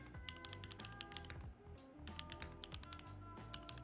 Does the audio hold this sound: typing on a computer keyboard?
yes